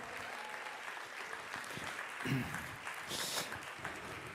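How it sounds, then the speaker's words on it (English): Faint applause from a conference crowd, steady clapping heard at a distance, swelling slightly toward the end. "You deserve a big round of applause for inspiring us all."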